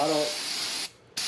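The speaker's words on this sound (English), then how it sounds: "spray it off with brake fluid cleaner and brake cleaner" Brake cleaner sprayed onto a brake part during a brake job on a Lincoln MKX, a close, forceful aerosol hiss that stops briefly and then resumes, with a voice faintly under the start.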